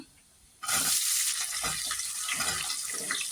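Sliced onions drop into a pan of hot spices for an aloo matar pulao. After a quiet start, a loud, dense sizzle bursts up and keeps hissing steadily at close range, with no talk.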